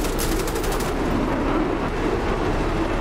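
Sustained rapid machine-gun fire at a jet in the DCS World flight simulator, a steady dense rattle that runs loud and continuous throughout, with no voices.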